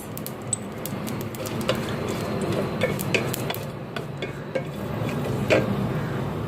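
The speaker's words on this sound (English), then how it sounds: "Now the mustard seeds are starting to splutter." Mustard seeds splutter in hot oil in a pot, scattered sharp pops and crackles ticking irregularly over a steady sizzle.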